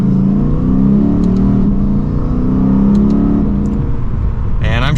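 A Lexus RC F Blue Fuji Speedway Edition with paddle-shift transmission pulls hard from second gear at Fuji Speedway, its engine droning loud and steady, then rising sharply in pitch near the end, while someone talks over it.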